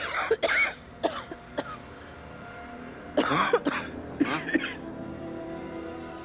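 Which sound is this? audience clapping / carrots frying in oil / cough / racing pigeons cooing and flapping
cough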